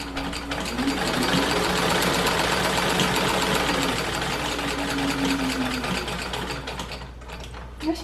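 A steady mechanical whir with a fast stitching rhythm runs almost without pause, close and fairly loud, easing off briefly near the end.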